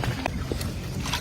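A small wooden bangka boat out on open water, heard as a brief burst of breezy, watery rushing with faint gurgles and wind buffeting the microphone.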